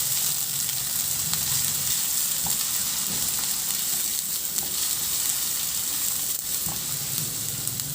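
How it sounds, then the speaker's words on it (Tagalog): Onions frying and being stirred in a pan give a steady, close sizzle throughout, with faint scrapes and clinks of the stirring utensil and no talk. "Ihalo lang din hanggang sa maluto yung sibuyas."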